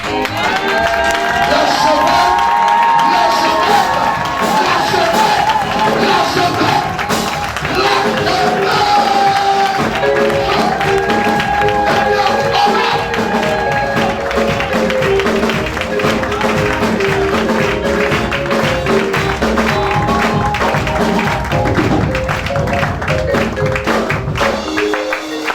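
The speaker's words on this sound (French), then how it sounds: "Je veux que tout le monde se tienne debout et qu'on acclame puissamment." A church congregation at a convention stands and cheers loudly, a dense sustained roar of voices and shouting with music and applause blended in, steady and full for the whole stretch.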